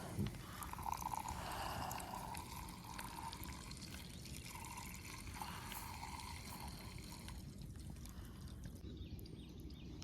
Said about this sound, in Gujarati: પણ થોડુંક પાણી મેં કીધું નાખીએ કેવા પૂરતું